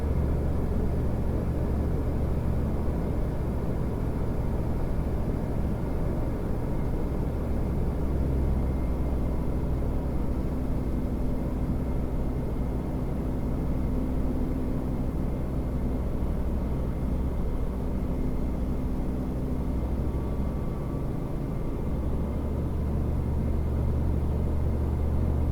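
A seaplane's propeller engine drones steadily and loudly during takeoff from a lake, with constant low rumble and a faint tonal hum, no voices.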